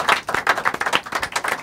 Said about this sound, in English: I want to give you a round of applause myself